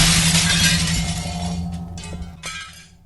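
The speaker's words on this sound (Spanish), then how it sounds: "tras el estallido de un cristal" Glass shatters in a loud crash, followed by a scatter of tinkling shards fading out over a few seconds, set against a stormy night.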